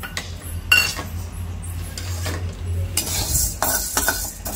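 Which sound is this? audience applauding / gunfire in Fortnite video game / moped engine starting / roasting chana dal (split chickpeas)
roasting chana dal (split chickpeas)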